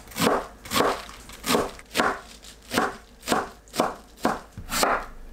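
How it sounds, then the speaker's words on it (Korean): A knife slices napa cabbage into thin strips on a board, about a dozen evenly spaced crunchy cuts at a steady pace, close and clear. "배추를 얇게 채 썰어서 준비합니다"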